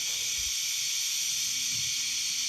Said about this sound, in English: Hear the steam coming out.